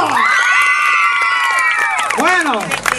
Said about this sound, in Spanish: Aplausos para Orlandito